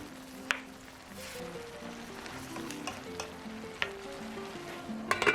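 Food sizzles and crackles steadily in a hot pan as radish is stir-fried with a little salt, with occasional sharp clinks of a utensil stirring, close by.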